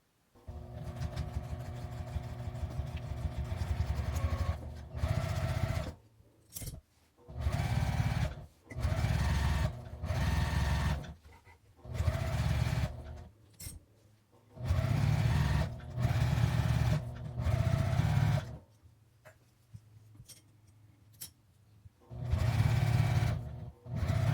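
A sewing machine stitches the folded hem of a 50×50 cm cushion cover about 1 cm from the fabric edge, running in repeated bursts of steady whirring separated by short pauses, close and alone.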